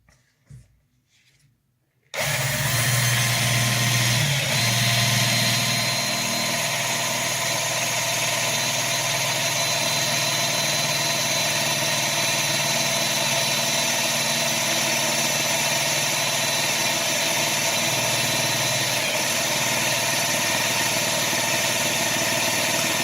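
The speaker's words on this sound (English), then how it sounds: "So the bit's installed on the drill motor, and I've put a piece of tape to indicate the depth that I want to drill to." Handheld electric drill motor steadily boring into a broken bolt stuck deep in a metal case, starting abruptly after brief quiet and running as a loud, continuous whine without pause.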